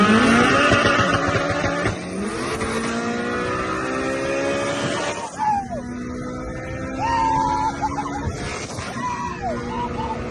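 A built Honda Civic EK with a cracked exhaust manifold pulls hard in second gear from a 40 roll on a street in Mexico, its engine revving loud and close, then upshifting and climbing again before fading.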